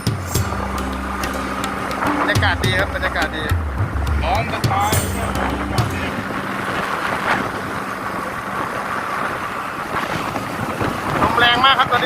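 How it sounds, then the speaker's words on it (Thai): Strong wind buffeting a moving vehicle on a ride toward Phanom Wan stone temple, a continuous loud roaring rush with low engine-like drones early on. "ลมแรงมาก"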